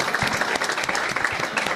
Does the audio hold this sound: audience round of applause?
yes